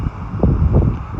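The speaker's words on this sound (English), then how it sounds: "it's real windy outside, so I'm gonna try to cover the microphone up with my hands" Outdoor wind buffets the microphone, producing low rumbling gusts that swell and subside over a second, loud and close.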